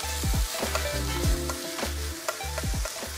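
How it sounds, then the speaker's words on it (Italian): Tomato passata stirred into beans frying in a pan for a traditional Tuscan fagioli all'uccelletto, giving a steady close sizzle with repeated scraping stir strokes and no talk. "aggiungiamo la nostra passata."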